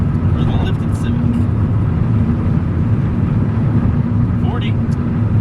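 A lifted Honda Civic driving at around 35 to 40, a loud steady engine and road rumble heard from inside the cabin with a constant low drone and no letup.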